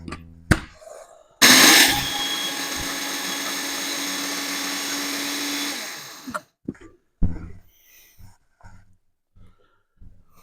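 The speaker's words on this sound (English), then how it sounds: "Okay, now let's blend it up." A kitchen blender grinds freeze-dried peppers into paprika powder, a loud steady whirring roar for about five seconds that stops abruptly. Short knocks and clatter follow.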